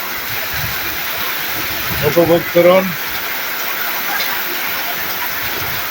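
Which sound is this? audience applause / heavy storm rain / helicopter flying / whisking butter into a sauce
heavy storm rain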